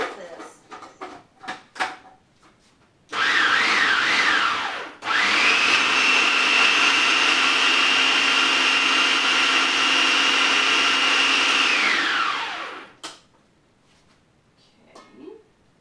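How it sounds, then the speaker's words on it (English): A blender whirs loudly and steadily for about ten seconds, blending a vegan mushroom veggie burger mix, with a short rising pitch at the start. Talk comes before and after the blending. "So we're going to blend this."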